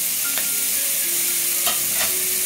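Shredded cabbage and mixed vegetables stir-fry for chicken fried rice, a constant sizzling hiss with a few brief spatula scrapes, close and without voices.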